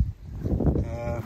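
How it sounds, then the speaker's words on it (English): A cow moos loudly and close by outdoors, one long drawn-out low bellow lasting over a second with a rising, tonal end. "Don't know if this cow wants anything to eat."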